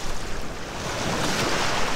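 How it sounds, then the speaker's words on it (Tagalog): Steady ocean surf wash at Patar Beach with rushing wind noise across the microphone, a broad continuous roar with no voices. "Yun yung alon. Dito lang yung alon."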